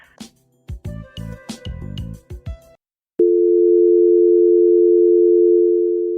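Steady telephone tone, loud and unbroken, sounds for about three seconds after a brief burst of other sounds and a short silence.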